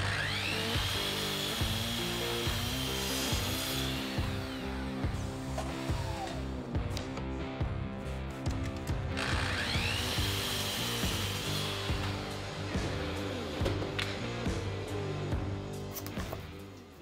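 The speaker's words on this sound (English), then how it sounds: "now I can make my cross cuts" A power saw makes cross cuts through wood pieces set against a stop block for a screw organizer cabinet, with two loud runs that whine up, bite through the wood, and spin down, and no talking.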